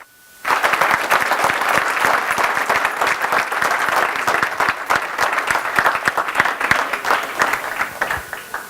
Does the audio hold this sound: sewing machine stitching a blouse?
no